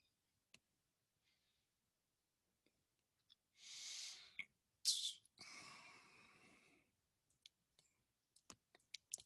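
Computer mouse clicks in a quiet room, a few sparse sharp taps scattered across the stretch, with a couple of louder breathy rustles in the middle.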